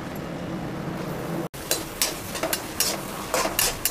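Chopped onions fry in hot oil with cumin seeds in a pan for egg burji rice, a steady close sizzle broken by a brief cut and then joined by intermittent scraping stirs.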